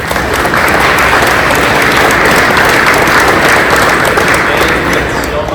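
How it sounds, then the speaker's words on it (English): Audience at a nonprofit impact partners' breakfast applauds volunteer board members, a dense, steady wash of many hands clapping close by that fills the whole stretch without pause. "let us clap at you"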